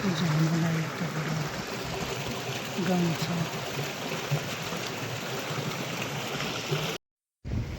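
A stream or waterfall in Jharkot village, Mustang, rushes steadily as a close, continuous water roar. It breaks off briefly near the end, and a voice speaks over it.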